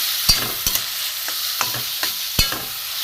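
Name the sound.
grated carrot frying in ghee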